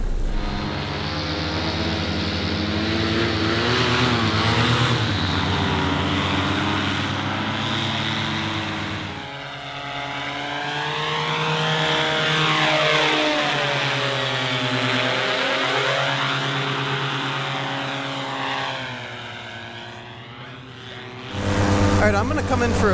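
A small aircraft engine drones steadily in flight, loud and close throughout, its pitch rising and falling as the throttle changes, with a voice speaking over it.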